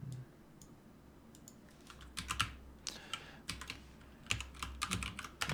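Quiet, close typing on a computer keyboard, with irregular bursts of soft key clicks and brief pauses between them.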